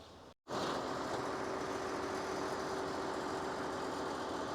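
A tractor engine runs steadily at close range while moving a Ford Torino Cobra in a Ford salvage yard, its continuous mechanical drone holding an even, loud level after a brief cut at the start, with no talk.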